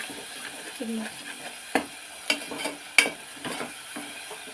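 Raw onion and tomato frying in oil for a malakekalu kurma: soft sizzle under close stirring, with a few sharp utensil clacks against the pan.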